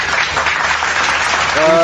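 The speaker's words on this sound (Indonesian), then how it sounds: "Tepuk tangan selalu, untuk Pak Akhi Jo." Brief applause from a gathered audience at an interfaith debate event, a short burst of steady clapping with a voice starting to speak over it at the end.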